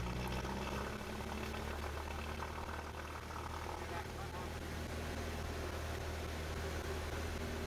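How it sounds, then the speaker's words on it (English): A Cessna 172's propeller engine drones steadily and loudly as the plane lines up on the runway for takeoff, a continuous rumble filling the whole stretch without a break. "I'm lining up for takeoff now."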